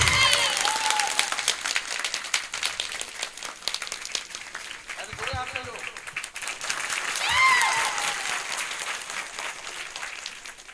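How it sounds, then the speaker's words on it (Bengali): An audience at a stage ceremony with gifts being handed over claps loudly, with the applause strongest at the start and then fading to a lighter patter while voices speak over it and a brief cheer pops up. "ধন্যবাদ, জোরে হাততালি।"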